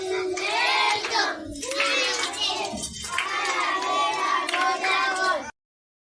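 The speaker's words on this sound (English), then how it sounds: "Clap for her." A group claps together in a room, quick, close hand claps with children's voices and shouting mixed in, pausing briefly before resuming and stopping abruptly.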